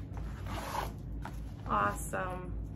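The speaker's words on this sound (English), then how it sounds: "Got the back zipper here." A zipper on a leather-trimmed farmhouse-style bag is pulled open or closed in a few short rasping strokes up close, under a steady background hum.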